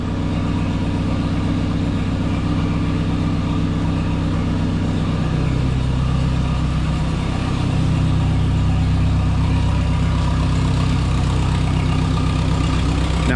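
A tractor engine at cold start runs with a steady low rumbling idle that stays loud and even throughout, with no talk.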